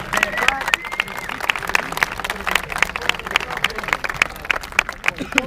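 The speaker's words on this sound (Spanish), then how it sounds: "quiero un fuerte aplauso por OES y por el guitarrista" Applause and clapping from a crowd at a rap battle event, with dense sharp claps rising and falling over about five seconds, mixed with background babble.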